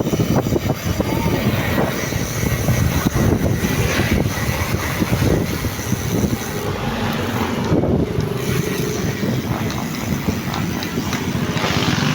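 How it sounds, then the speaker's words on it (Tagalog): Strong typhoon wind roars and buffets the microphone continuously during a ride, a dense, loud rushing noise with gusty fluctuations throughout. "Lakas ng hangin."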